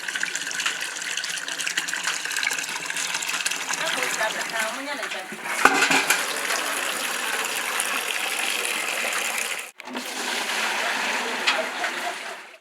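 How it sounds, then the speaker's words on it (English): Purified water gushes steadily from the tap of a polytank at a water point in Wassa East District, Ghana, a continuous close splashing flow with a brief cutoff near the end before it resumes. "And when you open it here, the water begins to flow outside."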